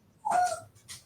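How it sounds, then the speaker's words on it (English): A dog whimpers once, a high thin whine lasting a fraction of a second, followed by a softer brief whimper, close by. "Sorry for the dog."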